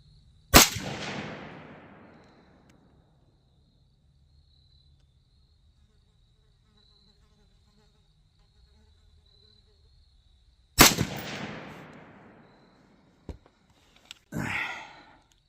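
Two rifle gunshots fired at 50 yards while testing a red dot sight outdoors, each a sharp loud crack with a long fading tail about ten seconds apart, quiet insect buzz between them and a brief rustle at the end.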